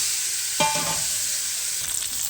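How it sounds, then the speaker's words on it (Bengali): A sharp burst of sizzling as turmeric-and-salt-rubbed fish hits hot oil in a wok, settling into a steady crackling fry with a brief clatter near the end. "এখানে মাছে আমি হলুদ লবণ মেখে নিয়েছি মাছটা দিয়ে দেবো কড়াইয়ের মধ্যে"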